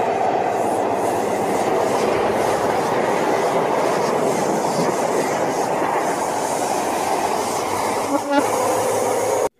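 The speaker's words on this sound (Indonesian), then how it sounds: "Wadidaw, ini ada kereta api cepat." Toy high-speed train running, a steady rolling rumble and clatter of wheels that stays loud and even throughout, with a brief click near the end before it cuts off.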